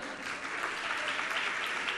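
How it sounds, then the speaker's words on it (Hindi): Steady applause from an audience at a Jain religious gathering honouring guests with turbans, dense clapping sustained throughout at moderate volume with a faint murmur of voices underneath. "तालियां बजाइए आप"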